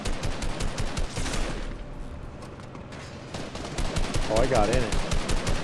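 Rapid automatic gunfire in Fortnite rattles in dense bursts, briefly thinning before resuming loud and close, with a player's voice speaking over it.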